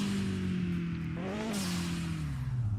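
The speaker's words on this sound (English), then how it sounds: "Now this car is quite loud." A loud car engine in the video game Mon Bazou drones steadily, its pitch rising briefly as it revs and then settling back to a lower hum.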